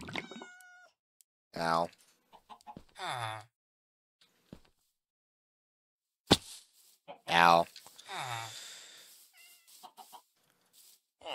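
A cat in Minecraft meows several times in short, clear bursts, rising and falling calls spaced across the clip, with a player speaking briefly between them.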